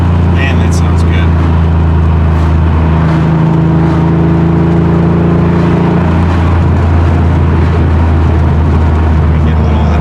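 A Porsche 911 engine idles loudly and is given a short rev, a dense low rumble that swells briefly in the middle, heard up close with a voice talking over it.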